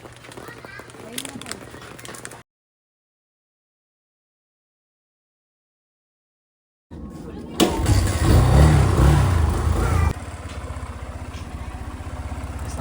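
A motorcycle engine idling as it warms up before a ride, running steadily and fairly loud up close for several seconds after a silent gap, with people talking briefly before it.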